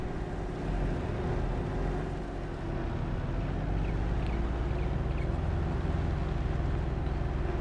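A Gator utility vehicle in Farming Simulator 22 drones along at a steady cruise, its engine giving a low continuous hum with a faint rumble, close and unchanging.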